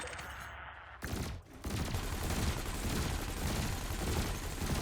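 Sustained rapid weapons fire from a ship's hardpoints shooting at floating canisters in the space game Elite Dangerous, a dense continuous roar that begins after a short burst and a brief gap.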